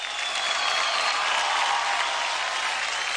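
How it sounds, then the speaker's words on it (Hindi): Studio audience at a televised dance competition grand finale applauding a dancer, a dense, sustained roar of clapping that stays loud and constant from start to finish. "जोरदार तालियां हो जाए जय के लिए।"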